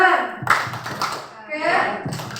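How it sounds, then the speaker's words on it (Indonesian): An audience in a school training session breaks into rhythmic group clapping, a loud close burst of claps with voices mixed in and some talk between claps. "Tepuk tangan untuk semua."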